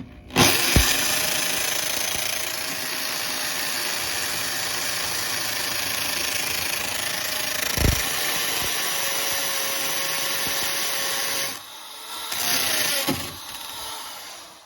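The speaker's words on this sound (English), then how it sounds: "This is the residential hammer drill with a 5/16 bit and concrete block." A residential hammer drill with a 5/16-inch bit churns steadily into concrete block for several seconds, a constant loud rattling drone with brief pauses and restarts near the end.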